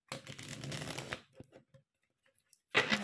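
A tarot deck is riffled and shuffled in a crisp, rapid flutter for about a second. A few soft card taps follow, then quiet, and then another brief shuffle.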